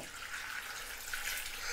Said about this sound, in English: So I'm just going to just cover them with distilled water